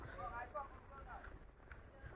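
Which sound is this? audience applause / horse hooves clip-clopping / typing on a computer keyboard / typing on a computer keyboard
horse hooves clip-clopping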